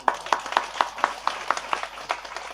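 A handful of evenly spaced hand claps from an audience at a public kirtan, about ten in a steady rhythm, sound moderately close against a quiet background.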